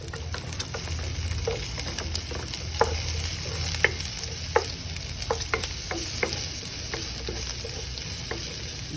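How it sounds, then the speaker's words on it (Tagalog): Bacon sizzling in a pan with garlic and onions, a constant bright frying hiss broken by frequent stirring scrapes and clicks throughout. "Look at that bacon. It's cooked already."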